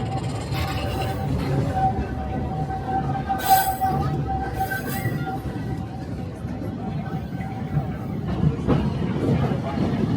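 A Walt Disney World Railroad train at Magic Kingdom rumbles along the rails with metallic wheel squeals rising and fading, and faint crowd chatter in the background.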